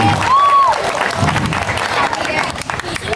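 An audience at a Balinese comedy show with gamelan players applauds, mixed with crowd noise and voices over a loud, busy background; a brief tonal sweep sounds near the start.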